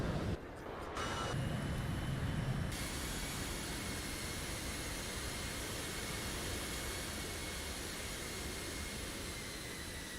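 Aircraft engines roaring steadily in a video game as planes taxi along a runway and take off, a loud, even, continuous drone that changes briefly in the first few seconds before settling, with no talking.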